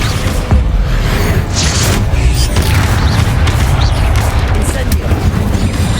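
Bombarda explosive spell cast in Hogwarts Legacy, a loud booming blast that rumbles heavily through the low end, with further crashes and mechanical rumble continuing across the few seconds.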